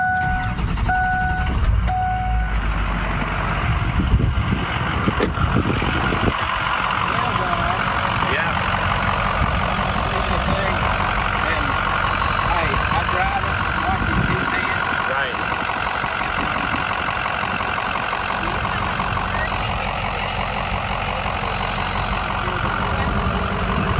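A car's engine is cranked and settles into a steady, loud idle after the car hit a deer. A beeping tone sounds at the start, and a voice talks over the running engine.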